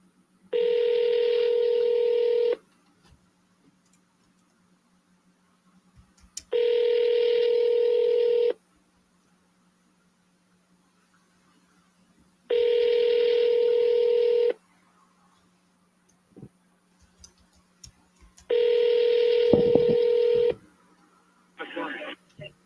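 Telephone DTMF dialing and dial tone on a phone call, four long steady tone bursts separated by silent gaps, with a short final tone at the end.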